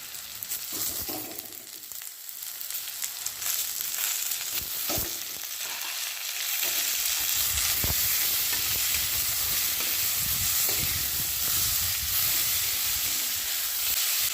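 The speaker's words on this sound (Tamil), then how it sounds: "இப்போ தக்காளி போட்டுடலாம்" Tomatoes fry in hot oil in a pan, giving a steady hiss and sizzle that grows louder partway through, with occasional stirring clatter and no talk.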